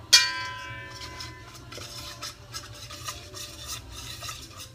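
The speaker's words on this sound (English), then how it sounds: "And to that we're adding our teaspoon of salt. And we're gonna whisk that together." A whisk stirs a teaspoon of salt into a mixture in a bowl, giving soft, continuous scraping and clinking after a bright metallic ting at the start.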